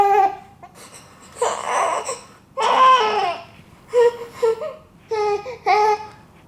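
A baby lets out a series of short, strained grunts and whimpering squeals while pooping, in close bursts separated by brief quiet gaps.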